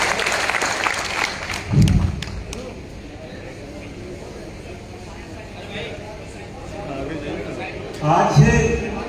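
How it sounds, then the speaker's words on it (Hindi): Audience applause at a railway workers' union committee meeting in a hall, two short loud bursts of clapping separated by a stretch of murmuring crowd and background noise. "जोरदार ताली हो जाए उनके लिए।"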